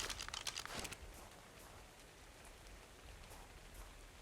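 Rain falls steadily in the survival game Ark Survival Evolved, a soft continuous hiss with a few brighter crackling patters near the start, then settling into an even, quiet wash.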